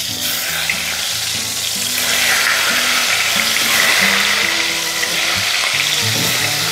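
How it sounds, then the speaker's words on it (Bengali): Pieces of pointed gourd (potol) sizzle and crackle steadily in hot oil over a low flame. The oil was just used for frying onions golden brown, and stirring clatters now and then under the close, continuous frying. "পেঁয়াজের বেরেস্তা ভেজে নেওয়ার পর ওই তেলেই ভেজে নেব পটল"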